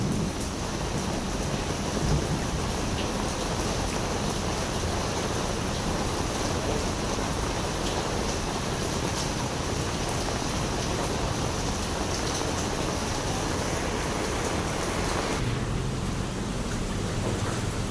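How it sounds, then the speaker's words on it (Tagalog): Heavy rain pours steadily during flooding in Manila's Port Area, a loud, unbroken wash of noise that fills the whole stretch and eases slightly near the end; no distinct thunderclap stands out. "Malakas pa rin ang ulan, tapos kumukulog."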